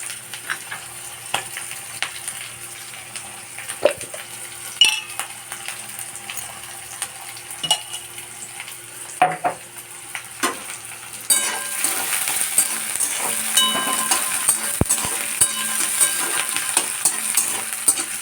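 Onions sizzling in a pan for a Bengali drumstick-flower and potato chorchori, with scattered spatula scrapes and clinks over a low hiss that swells into a louder, denser fry in the latter part; close up, no voices.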